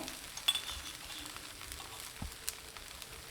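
Thin rava dosa batter, poured in a lacy layer, sizzles quietly on a hot dosa griddle with oil around its edge, a faint steady crackle with a few small clicks.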